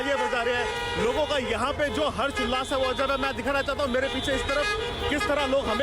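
Car horns honk repeatedly in a street celebration, dense overlapping toots from many vehicles beneath a man reporting loudly in Hindi.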